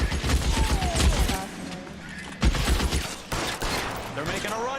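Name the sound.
gunfire in the video game L.A. Noire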